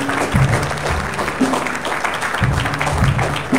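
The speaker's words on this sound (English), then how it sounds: "Clap those hands and give God some praise." A church congregation claps hands in praise during a worship service, loud steady clapping with a few voices calling out over it and low instrumental tones underneath.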